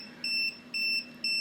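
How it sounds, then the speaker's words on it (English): A power inverter sounds its low-voltage alarm while running off a Renogy 100Ah LiFePO4 battery near the end of its charge: three evenly spaced, loud, high-pitched beeps, each about a quarter second long, with steady gaps between them. "the inverter now has gone into alarm and that's going to cut out shortly."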